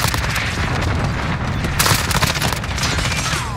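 Rapid, loud bursts of CR-56 gunfire in Modern Warfare, a dense, continuous stream of shots with heavy low-end booms and sharp crackling impacts, filling the whole moment without any talking.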